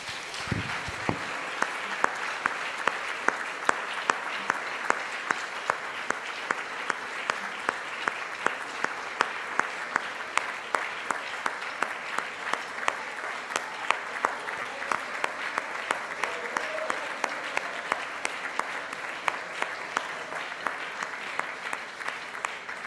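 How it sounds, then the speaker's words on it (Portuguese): A church congregation applauds steadily for a long stretch during a worship service, a dense, sustained wash of many hands clapping that fills the room at an even level from start to finish. "Vamos aplaudi-lo?"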